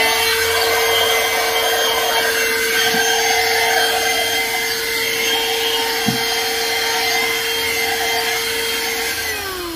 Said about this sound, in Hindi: अब जैसे ही मैं इस स्विच को प्रेस करूंगा वैक्यूम क्लीनर ऑन हो चुका है